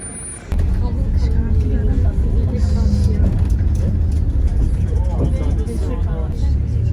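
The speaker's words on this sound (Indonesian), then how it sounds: "Oke, ini dia bisnya." Intercity bus arriving at a cold bus terminal in Turkey, with a loud close engine rumble that starts abruptly and continues under faint background chatter.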